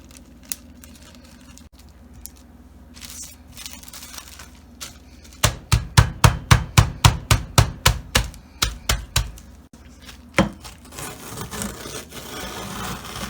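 Graham crackers being crushed for a no-bake mini cheesecake crust: a quiet crinkly stretch, then a run of about a dozen loud, evenly spaced crunching strikes, close up and with no talk.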